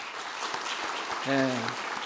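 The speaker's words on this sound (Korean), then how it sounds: "우리 힘내시라고 우리 박수 한번 해드립시다" A church congregation claps during a Sunday service, a soft steady patter of many hands heard at a distance, with a brief sung or spoken tone rising over it midway.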